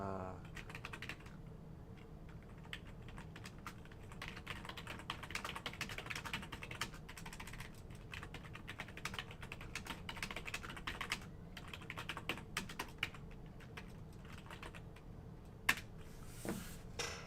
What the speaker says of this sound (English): All this typing.